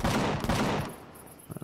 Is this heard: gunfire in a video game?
yes